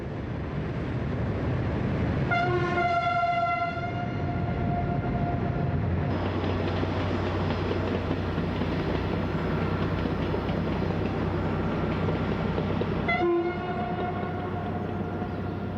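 An X 4500 diesel railcar (X 4519) runs along the Cahors line in Quercy in spring 2000, its engine drone steady and loud throughout, with two-tone horn blasts sounding early and again near the end.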